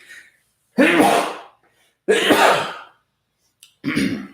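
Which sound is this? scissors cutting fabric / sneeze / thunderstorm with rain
sneeze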